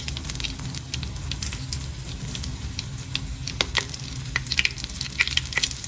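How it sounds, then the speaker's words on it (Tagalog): Breaded balut eggs frying in hot oil, a steady bubbling sizzle with sharp spitting pops growing more frequent toward the end. "prinito ko na yung breaded balot ko"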